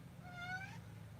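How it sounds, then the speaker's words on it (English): A pet cat named Fuzzy gives a single rising-and-falling meow indoors, clear and moderately close over a low background hum, with no talking. "that is my cat meowing"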